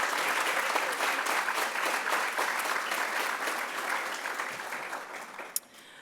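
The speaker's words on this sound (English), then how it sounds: "Please join me in a round of applause to our award recipients" Sustained applause fills an awards ceremony hall at an education honors day, a dense, even wash of many hands clapping at moderate distance that slowly fades toward the end.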